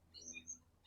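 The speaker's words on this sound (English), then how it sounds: "these birds are making a racket" Outdoor birds chirp in thin, high tweets that fade in and out, ending with a sharper, louder call at the close, over a quiet low hum.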